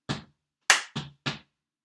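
Body percussion playing the first three beats of a Stomp groove: four close, dull slaps or stomps with a pause after the first, then three evenly spaced hits, with no voices.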